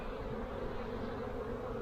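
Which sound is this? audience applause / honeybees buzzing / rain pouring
honeybees buzzing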